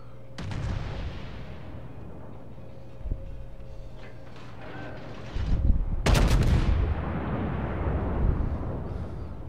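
Naval gun salvos fire in World of Warships during a battle involving a Scharnhorst battleship, with a few sharp booming shots followed by a heavy, rumbling broadside blast that trails off into a long roar.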